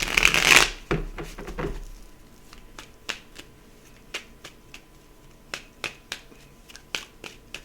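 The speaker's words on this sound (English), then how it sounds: "Let's give it another shuffle." Tarot cards being shuffled: a dense riffle burst at the start, then a run of crisp, separate card snaps and taps spaced through the rest, close and fairly quiet with no talking.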